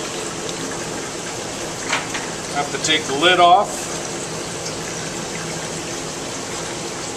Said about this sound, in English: There's water moving right straight down through the pipe that goes into the mass of eggs